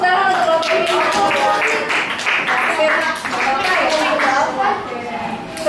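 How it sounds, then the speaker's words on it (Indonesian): Classroom clapping for a student group, several quick bursts of hands overlapping with children's voices and teacher talk throughout. "Beri tepuk tangan untuk kelompok"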